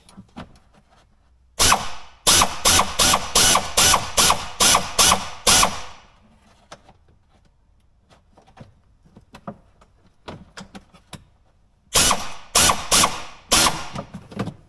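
Bursts of rapid ratcheting clicks from a wrench tightening mounting hardware on a Can-Am Commander electronic dash holder, two long runs separated by a quiet gap, loud and close with no talking.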